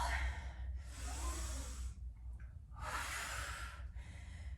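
Two long, forceful exhaled breaths, close and breathy, from someone doing a dumbbell exercise, with a short quieter breath between them and another at the end.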